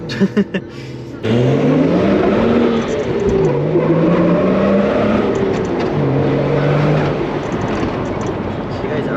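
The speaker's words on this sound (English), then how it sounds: "I don't know which you can hear more on the camera right now, whether it's the engine or the scrubbing" A lowered Japanese wagon's engine revs hard while its tyres scrub, a loud sustained engine drone with wandering pitch sweeps over rough grinding noise, after a brief quieter start.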